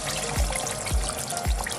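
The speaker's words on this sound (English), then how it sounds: "I'm just gonna add about half a cup of water in here" Water is poured into a pot of vegetable lamb curry as a steady, soft splashing stream, with three dull low thumps spaced evenly through it.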